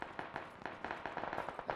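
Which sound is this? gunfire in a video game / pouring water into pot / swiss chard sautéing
gunfire in a video game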